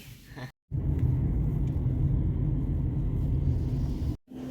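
A car's engine idles steadily, a deep continuous rumble close by that cuts out briefly near the start and again near the end, with no talk over it.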